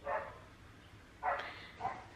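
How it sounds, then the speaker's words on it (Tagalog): A dog barks three times with gaps between, the barks mid-distance and moderately loud against a quiet background. "May tumatahol na aso."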